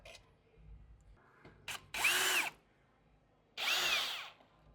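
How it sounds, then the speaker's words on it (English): A power drill with a T30 bit whines in two loud bursts separated by a pause, removing bolts on a Ford Bronco Raptor, preceded by a few small clicks and handling knocks. "Get in there with the drill."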